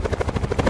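The rotor of a helicopter in Call of Duty Blackout thumps in a fast, steady beat, loud and close, with no speech over it.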